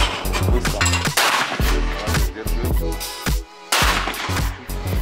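Several sharp rifle gunshots crack out in quick succession at a shooting range, loud and close, with echoing tails and a brief quiet gap between bursts.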